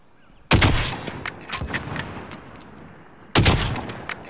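Gunshots in a battle royale video game, two loud close sharp reports about three seconds apart with a quieter shot between them, each trailing off in a short echo, no talking.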